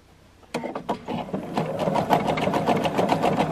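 A domestic sewing machine stitches along a scalloped edge of a Joseph's Coat quilt, starting abruptly after a brief quiet moment and then running in a steady, close, rapid mechanical rattle with no talk over it.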